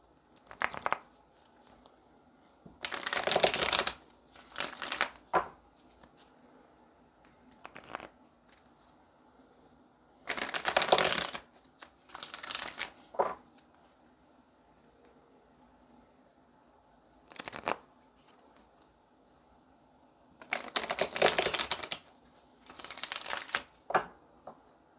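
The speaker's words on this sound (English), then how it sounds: "Let's get a couple of more good shuffles here." Repeated bursts of tarot cards being shuffled, crisp riffling flurries close by, separated by quiet pauses and a few lighter taps.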